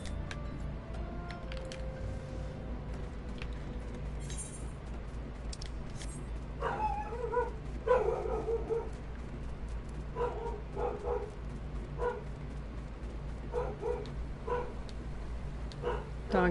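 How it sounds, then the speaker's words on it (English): Small dog in Final Fantasy XIV giving repeated yips and barks over a steady game ambience and low hum, bursts clustered in the second half at moderate loudness. "Dog is just full of borks today."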